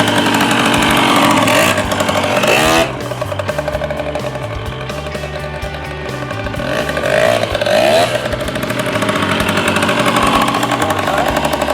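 A 1979 Kawasaki KM100 motorcycle engine runs loud and close throughout, its steady two-stroke putter dipping briefly around mid-clip before building again, with no talking.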